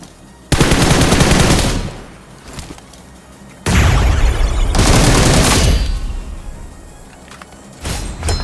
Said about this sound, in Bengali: নক করার পরে M7 দিয়ে আবার স্মোকে ফায়ার করি, কিন্তু কিছুই হয় নাই।